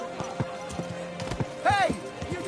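A horse's hooves clatter close by in quick, uneven beats, with a sharp whinny partway through and people shouting over the noise.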